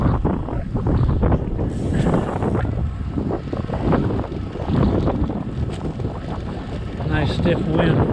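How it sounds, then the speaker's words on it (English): Strong, steady wind buffets the microphone while cycling beside Lake Houston in gusts of around 22 mph, roaring and rumbling up close throughout. "Nice stiff wind from my left side."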